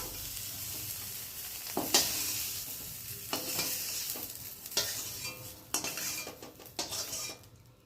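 Soybean chunks fry lightly in a pan, a continuous sizzle broken by repeated scraping and clanking as a metal spoon stirs and knocks against the pan.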